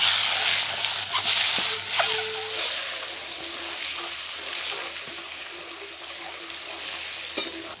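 Steady sizzling and hissing of eggs frying in hot mustard oil with salt and turmeric, with occasional stirring clinks from a utensil against the pan, close by.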